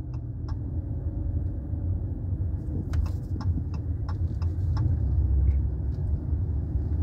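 Car in motion on a road, a steady low engine and road rumble throughout with a few faint clicks or ticks in the cabin, no talking.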